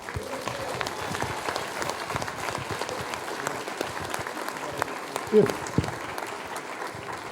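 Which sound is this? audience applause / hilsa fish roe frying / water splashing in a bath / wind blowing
audience applause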